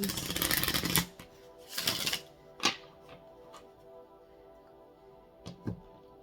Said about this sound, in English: We'll do one more shuffle here